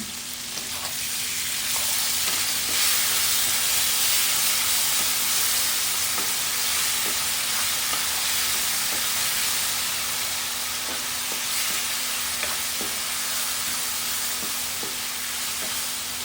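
Lotus stems and shrimp stir-fry in a hot pan, a steady loud sizzle with scattered pops and spatters held continuously throughout, with no talking.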